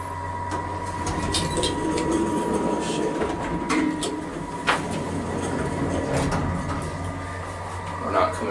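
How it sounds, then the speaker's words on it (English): A vintage Mitsubishi elevator in pristine condition, with a side door, at the Hang Seng Bank in Hong Kong, runs with a steady low hum and rumble, marked by occasional clicks and clunks throughout. "We got a vintage Mitsubishi elevator here."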